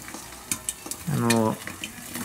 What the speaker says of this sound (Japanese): フライパンにはオリーブオイルを 5g ほど垂らしてなじませて、で目玉焼きをまずは作ります。